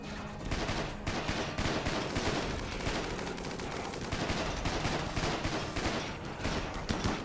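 Turrets in RimWorld firing at approaching enemies, rattling off a steady stream of rapid, overlapping gunfire bursts that barely let up, fairly loud and with almost no talking.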